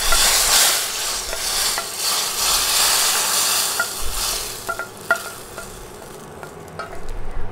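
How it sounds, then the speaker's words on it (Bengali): Browned garlic tempering hits simmering papaya dal, a loud sizzle bursting at the start and then settling into a softer hiss punctuated by spoon clinks and stirring taps, with no voices. "রসুন বাদামি হয়ে এলে এখন রান্না হতে থাকা ডালের উপর দিয়ে দিব।"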